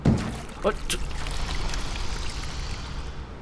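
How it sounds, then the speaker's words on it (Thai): Holy water pours in the horror video game Home Sweet Home, a steady watery trickle running under ongoing talk, with a few brief knocks near the start. "อย่าบอกว่าเทน้ำมนต์ใส่สายสินแล้วประตูเปิดนะ"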